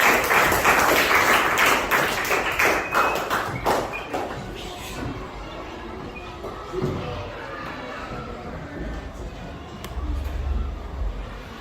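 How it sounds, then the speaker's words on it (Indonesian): Classroom students applaud a group with a brisk, fairly loud burst of clapping and thumps that fades after a few seconds into quieter room murmur and scattered taps. "tepuk tangan untuk kelompok"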